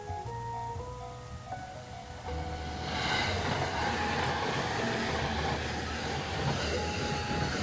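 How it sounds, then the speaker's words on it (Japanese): Warning tones ring at a railway crossing, then a train rumbles past close by, its loud rolling clatter steady until the end. "左からも電車が来ました"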